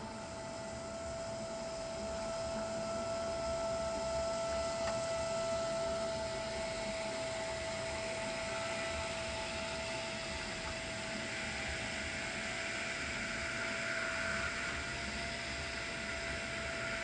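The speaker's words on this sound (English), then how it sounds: "This thing's sucking up some coolant" A small water-cooling pump in a BitFenix Prodigy PC home server build draws coolant through a 240 radiator loop, a steady, faint, continuous whirring hum with a thin tonal whine, running alone without talk.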